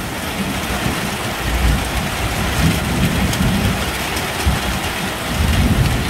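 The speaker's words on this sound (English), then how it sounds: "Man, that thunder just rumbles on." Heavy rain pours steadily and close by, while deep thunder rolls underneath in long, low rumbles that swell and fade throughout, with no voices over it.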